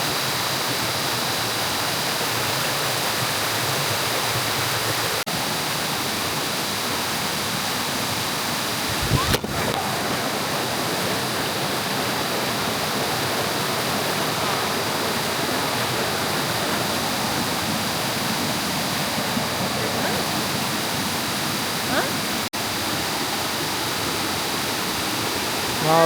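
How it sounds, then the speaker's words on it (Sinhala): A waterfall in the Sinharaja rain forest pours steadily, a broad, even, continuous rushing roar heard close and alone with no voices. "මාර ලස්සනයි මේ දියැල්ල."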